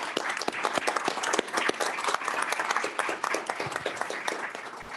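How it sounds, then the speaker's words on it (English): A room of attendees at a board of directors meeting applauds, individual claps clearly distinct in a steady, moderately loud patter that holds throughout. "Give her another round of applause, if you will"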